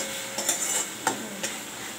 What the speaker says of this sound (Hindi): हमारा टमाटर मसाला एक साथ में फ्राई हो रहा